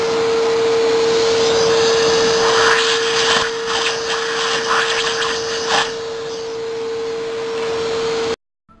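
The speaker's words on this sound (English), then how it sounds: "that shop vac comes in handy, getting that little bit of debris out of there" A shop vac sucks debris out of a Toyota Tercel 4WD manual transaxle housing, its loud, steady motor whine and airflow roar holding for about eight seconds, with brief rattles of loose bits, before it abruptly shuts off.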